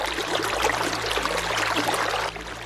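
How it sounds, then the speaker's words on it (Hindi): A waterfall pours steadily inside a cave, a dense, continuous rush of water that holds evenly throughout and softens slightly just before the end, with no voices. "उसे एक तरफ झरने की आवाज सुनाई देती है"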